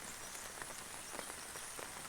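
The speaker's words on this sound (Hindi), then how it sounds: "बारिश अभी पता नहीं कहाँ तक पहुँचेगी" Steady rain falls in a mountain village, a soft, even hiss of drops on surfaces with scattered individual patters, fairly faint and continuous with no voices.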